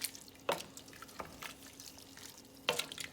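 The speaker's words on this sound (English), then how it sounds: "And I'm gonna add a little bit of water" Water is added to a pot of Guyanese red peas cook-up rice with coconut milk. It sounds as sparse, close drips and splashes, three or four distinct plops over a quiet background, with no talking.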